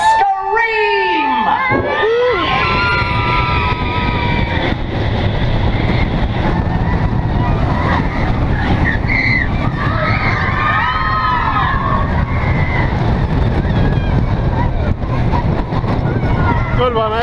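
Riders scream on the California Screamin' roller coaster, the cheering and shrieking loud and continuous for over fifteen seconds over a heavy rushing roar of the ride, recorded up close from on board.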